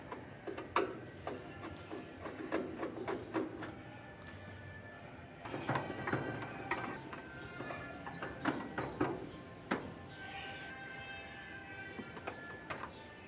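Small sharp clicks and ticks of screws being loosened on the panel of an LG top-load washing machine, coming in irregular bursts close up with short pauses between, against a quiet room.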